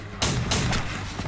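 Gunfire from the action film Sniper: Special Ops, with three sharp pistol-like shots in quick succession over a loud, dense battle bed of rumbling noise.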